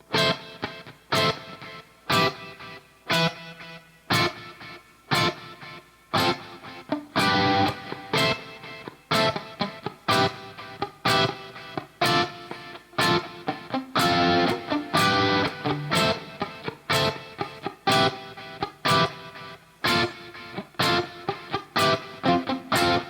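Electric guitar plays a repeating plucked pattern with delay and reverb, notes ringing and echoing in a steady rhythm throughout, no voices.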